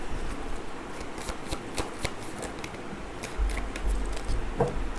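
Tarot cards being shuffled during a reading, a steady run of soft papery riffles and flutters close up, with a few firmer taps and thumps near the end.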